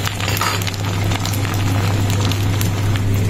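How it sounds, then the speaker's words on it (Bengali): An egg fries in hot oil in a pan, a loud, constant close sizzle and crackle with no pauses, over a low steady hum. "আর ডিমটা তেল দিয়ে একটু ভেজে নিচ্ছি"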